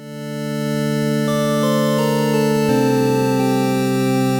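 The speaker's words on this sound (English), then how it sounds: "Turn the attack up to give it a fade-in." A sustained synthesizer tone swells gradually from silence to full volume, then holds steady as the pitch steps between a few notes.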